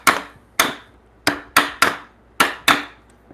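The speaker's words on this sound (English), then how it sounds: "I really shouldn't be hitting a framing chisel" Hammer striking a framing chisel into timber during a timber frame bunk bed build, seven sharp close knocks in an uneven rhythm, each crisp and loud with a quick decay, no voices.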